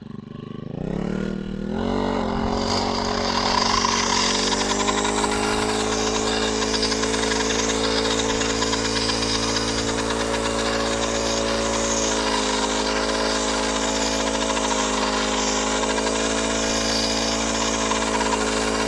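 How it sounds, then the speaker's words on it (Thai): A loud brush cutter fitted with a circular saw blade revs up and holds a steady, high-pitched whine with the blade spinning continuously, close and unbroken throughout. "ใบตัดหญ้า แบบแรกนะครับ ที่เป็นใบเลื่อยวงเดือนนะครับ"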